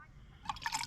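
Water briefly splashes and trickles into a pot, a short liquid gurgle starting halfway through after near silence, outdoors at a lake.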